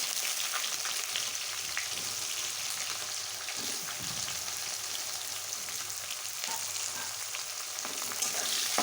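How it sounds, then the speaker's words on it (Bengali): Onion fries in a pan after a pinch of asafoetida over low heat, giving a steady crackling sizzle that runs throughout with occasional stirring scrapes. "পেঁয়াজটা একটু লাল করে ভেজে নেব"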